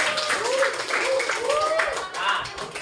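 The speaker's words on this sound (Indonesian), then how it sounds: "Oke, tepuk tangan buat Arjun." Group clapping for a participant at a teacher training session comes as a continuous patter of several hands, while someone talks over it the whole time.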